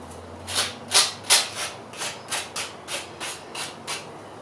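A small sanding block rubs along the edges of a ceramic dish in about ten quick, evenly spaced strokes, each a soft gritty scrape, close and fairly quiet.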